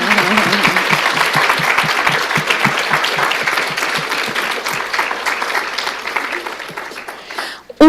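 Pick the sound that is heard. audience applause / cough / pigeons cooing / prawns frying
audience applause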